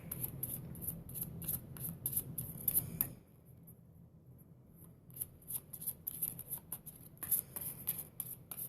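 Cards are riffled and shuffled in quick bursts of crisp flicking, with a short pause midway before the shuffling resumes; quiet and close, no talking.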